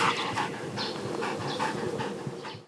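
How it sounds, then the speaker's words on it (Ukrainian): A Belgian Malinois shepherd dog being trained for search and rescue pants rapidly and close by, with quick, even breaths continuing throughout. "Це дворічний Еней, бельгійська вівчарка Малінуа."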